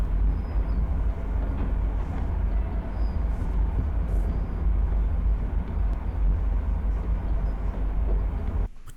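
A train passes in a Backrooms-style video game, producing a loud, steady rumble that fills the whole stretch before cutting off abruptly at the end.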